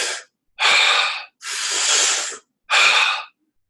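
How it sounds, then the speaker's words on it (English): Wim Hof breathing, with four forceful breaths in a quick series: a short exhale, then a deep rushing inhale, a long drawn-out exhale and another sharp inhale, loud and close with brief silences between them. "so just taking in as much air, oxygen as you can, and then expelling it, but not expelling it all the way"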